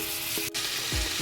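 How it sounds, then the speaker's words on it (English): Butter sizzling in a hot skillet used for charring vegetables, a loud, continuous close hiss with a couple of faint utensil knocks. "heated skillet that we use to char our vegetables, I'm gonna throw in some butter"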